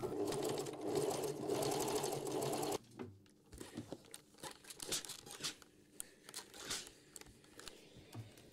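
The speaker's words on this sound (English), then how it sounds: "then we top stitch that all the way around, leaving the top open, of course" A sewing machine whirs steadily while top stitching a pocket onto a tote bag lining. It stops abruptly after about three seconds, and soft fabric rustling and handling noises follow.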